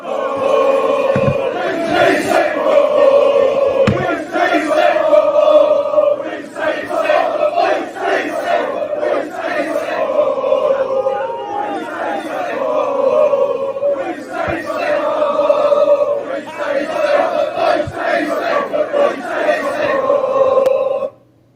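A large crowd of Chelsea football fans protesting, chanting in loud rhythmic waves that swell and repeat, with sharp claps or bangs punctuating the roar, heard continuously until an abrupt cut at the end.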